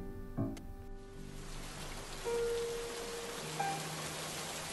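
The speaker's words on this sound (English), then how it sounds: "a light rain began to fall on the windows of Kelly's apartment" Light rain falls steadily on the windows of an apartment at night, a soft, even hiss of drops that settles in after a brief quiet start and continues without speech.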